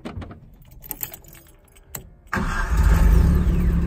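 Keys jangle and click in the ignition of a Datsun 510 that had trouble shutting off, then the engine cranks and catches, settling into a loud, close, steady idle.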